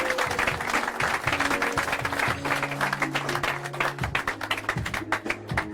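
A church congregation applauds and claps in praise of Jesus, a dense, steady wash of many hands filling the room, with sustained musical tones running underneath.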